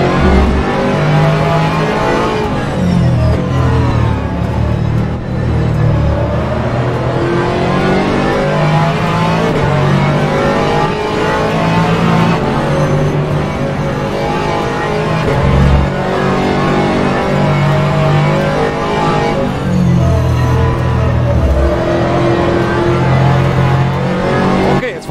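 An Aston Martin Vantage GT3 race car in rFactor 2 laps Watkins Glen: a loud, continuous engine note climbing through the revs, dropping sharply on each gear change or braking zone and rising again.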